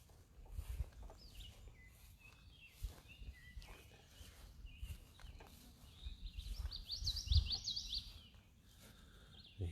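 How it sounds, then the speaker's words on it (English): An ovenbird sings during an early-morning bird walk in an arboretum, its faint, repeated ringing phrases carrying from a distance over quiet outdoor ambience and scattered handling bumps. "An ovenbird."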